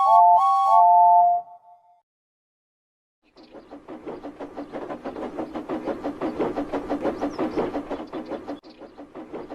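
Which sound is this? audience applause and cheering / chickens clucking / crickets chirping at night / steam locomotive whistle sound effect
steam locomotive whistle sound effect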